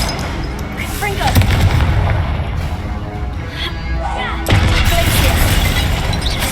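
Confringo blasting spell cast in the Hogwarts Legacy video game on PC: loud, sharp explosive bursts crackle over a dense combat soundscape, with a heavier blast near the end.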